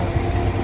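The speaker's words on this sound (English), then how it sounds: "Excellent running engine." A 1956 Dodge Sierra station wagon engine idles steadily up close, a continuous low rumble with an even mechanical hum and no voices.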